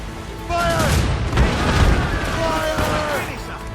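Cannons aboard a sailing warship fire a volley in Assassin's Creed Rogue, booming blasts rolling together over about three seconds amid battle noise, with crew voices shouting over the barrage.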